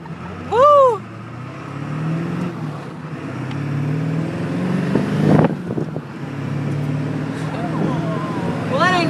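A straight-six truck engine revs in loud bursts, its rising and falling pitch swelling with a sharp peak midway, while people talk and shout excitedly nearby.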